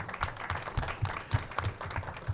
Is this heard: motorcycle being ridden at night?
no